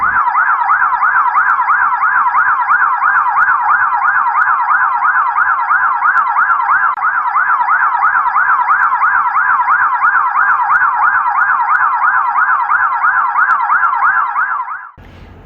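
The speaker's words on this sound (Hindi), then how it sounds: "कई बार पुलिस का सायरन बजता है" A police siren wails loudly and continuously in a fast, regular up-and-down warble, close and alone, before cutting off abruptly at the end.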